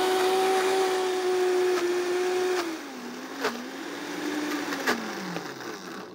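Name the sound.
high-powered blender blending cashews into butter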